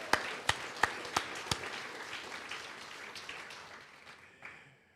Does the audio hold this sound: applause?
yes